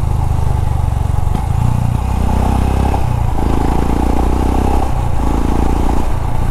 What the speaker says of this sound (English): If you want it to be really loud, then you can just go chaos on your accelerator